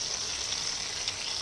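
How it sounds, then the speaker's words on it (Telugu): Brinjals frying in a pan, a continuous soft hiss and sizzle heard alone for a brief moment. "ఈ వంకాయలు కొంచెం వేగాలి కదా."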